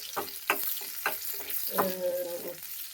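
Hot oil sizzles and crackles as a tempering goes into the pan for a curry with drumstick leaves and curry leaves, a close, steady frying hiss with a few sharper bursts throughout.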